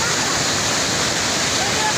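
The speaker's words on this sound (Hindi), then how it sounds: "अभी ये नदी काफ़ी कम हो चुकी है" A village river still running high after a heavy overnight rainstorm, heard as a steady, loud, broadband rush of flowing water that fills the whole moment with no pauses and no voices.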